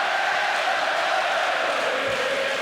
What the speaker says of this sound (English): And this crowd is amazing.